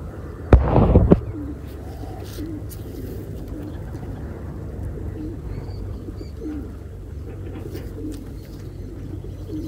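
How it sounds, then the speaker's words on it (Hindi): Flying pigeons kept by a pigeon fancier make a sharp burst of wing flapping near the start, followed by a steady outdoor background with faint bird calls and occasional voices. "उड़न वाले कबूतर"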